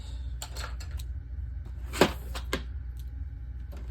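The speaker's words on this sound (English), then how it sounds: "And I'm gonna trim my background now." A paper trimmer cuts scrapbook background paper, with a series of close, crisp clicks and slides of the blade and a louder snap midway, set against a quiet room hum.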